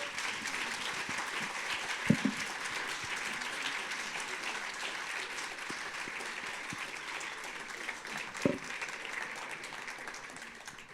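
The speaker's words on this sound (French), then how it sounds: "Je propose qu'on les applaudisse bien fort." Conference audience applauding two entrepreneurs after their talks, a sustained, fairly distant burst of clapping from a crowd that stays even throughout and slowly tapers off at the end.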